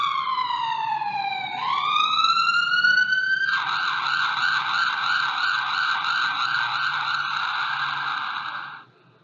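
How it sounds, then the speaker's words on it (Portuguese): A loud siren wails alone, first a long falling-then-rising sweep, then a rapid warbling yelp that repeats steadily before cutting off. "É a sirene."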